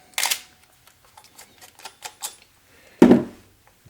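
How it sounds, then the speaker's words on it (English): Canon EOS 1V film camera shutter clacking at 10 frames per second, heard as a sharp opening shot, a run of fainter rapid clicks, then another loud close snap near the end. "The EOS 1V, which was a little quieter than with the regular battery pack, is now quite loud again."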